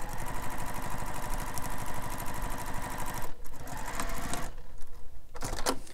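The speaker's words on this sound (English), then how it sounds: "So it's kind of nice that you're doing this extra stitching here," A sewing machine runs in a steady, close whirring stitch while sewing a carryall bag with sew-in foam, pausing briefly near the middle and again toward the end, with no talking.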